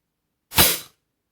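A single sharp crack from a Diana LP8 Magnum air pistol, close and loud, ending in a short decay that fades within half a second.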